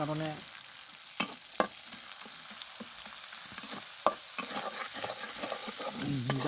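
Chopped onions frying in a pan at home, a steady soft sizzle with a few sharp clinks of a utensil against the pan, no talking.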